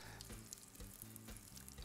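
A breadcrumb croquette deep-frying in hot fat, a steady dense sizzle and crackle that stays close and continuous throughout with small bubbling pops.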